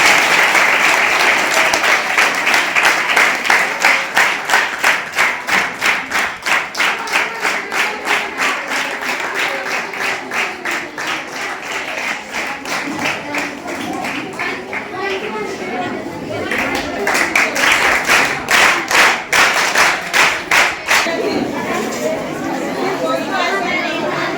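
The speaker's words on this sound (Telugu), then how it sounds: "మనం చప్పట్లతో ఆహ్వానిస్తాం" An audience at a school felicitation event for a student claps loudly and continuously, falling into a rhythmic beat at times, with voices chattering underneath.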